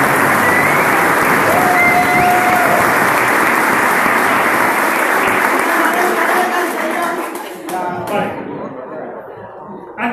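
Loud, sustained applause from an audience at a homebrew beer contest award ceremony, dense clapping with some crowd chatter, lasting about eight seconds before tapering into scattered claps.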